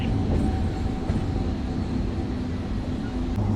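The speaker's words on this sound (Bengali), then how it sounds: "3 নম্বরে ঢুকছে আমাদের ট্রেন।" A train rolls into platform 3 at Bongaon station on the Kolkata–Dhaka route, a steady close rumble of wheels and carriages with low mechanical hum, continuous and fairly loud throughout.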